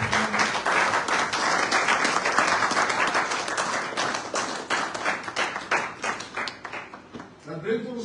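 A church congregation at a Sunday service applauds in a sustained burst of dense clapping that thins toward the end as a voice returns.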